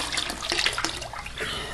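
Filtered water from a tank, pushed by a pump through a pre-filter and a Doulton filter, pouring out in a steady splashing stream with faint drips, fairly close.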